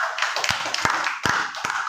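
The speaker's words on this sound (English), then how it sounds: "Give yourself a clap, class." A few claps ring out in a classroom as students applaud themselves for a correct answer, sharp separate hits spaced about every half second over a steady background hum, with no talking.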